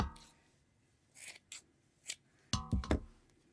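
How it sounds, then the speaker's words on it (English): Scissors snipping the ends of a yarn pom-pom, several short separate cuts, sparse at first and then a quick cluster of three near the end, close and quiet. "I pull it forward and just cut it nice and even."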